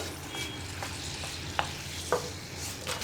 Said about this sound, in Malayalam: പപ്പടം വറുത്തെടുക്കാം നമുക്കിതുപോലെ കുറച്ച് കുറച്ചായിട്ട് പപ്പടം വറുത്തെടുക്കാം